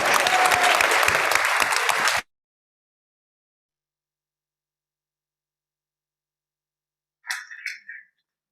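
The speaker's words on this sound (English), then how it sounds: "can we have a round of applause for our new members?" A church congregation applauds its new members with a burst of dense clapping that cuts off after about two seconds, followed by silence and a brief faint sound near the end.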